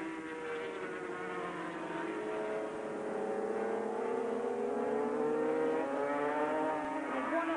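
A red and white Yamaha V4 500cc Grand Prix racing motorcycle of over 140 horsepower at the 1985 British Grand Prix, its high-pitched engine wail rising and falling steadily as it passes at a distance, with no talk.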